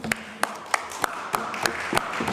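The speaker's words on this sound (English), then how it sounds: "Loving those claps." Scattered claps ring out in the chamber of the BC Legislature, about eight sharp separate hand claps spread across a couple of seconds over a low room murmur.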